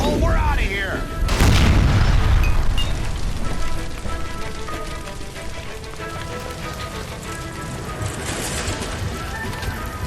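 A gas line blows up in the video game L.A. Noire, a sudden heavy boom early on, then a long crackling, rain-like rush of debris and flames that slowly fades, with game voices around it.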